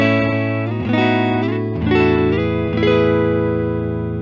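A Fender Made in Japan Limited F-hole Telecaster played through its neck pickup gives a dark, warm electric guitar tone: a few sustained chords and notes ringing out with gentle effects, no talking.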